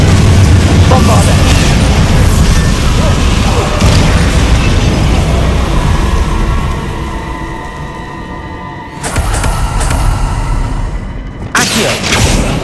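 Bombarda and fire spells go off in Hogwarts Legacy, heavy booming blasts and crackling bursts layered over loud action, ending with sharper crashes near the close while a voice shouts spell names.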